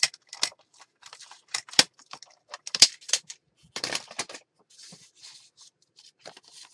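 Scissors snipping off excess paper for a mixed media folio journal base, a quick run of crisp, separate cuts with short pauses between them, close and fairly quiet.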